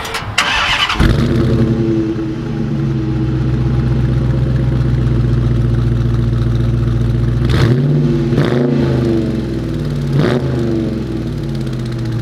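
A 2020 Dodge Challenger R/T with a six-speed manual starts up and pulls away, a deep steady engine rumble broken by three brief revs as it shifts, with no talking.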